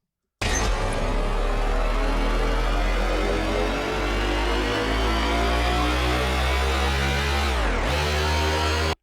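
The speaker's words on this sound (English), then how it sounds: "I used this kind of scary drone from one of the Kashmir sample packs" A stretched, scary synth drone sample rumbles like a helicopter starting up, a dense, steady, loud wash that holds for several seconds before a brief downward dip and cutoff at the end.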